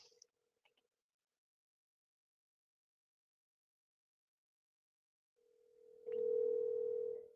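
Telephone dial tone, a steady electronic hum that starts faintly and then swells loud for its final second and a half, after a few faint clicks and a long silence.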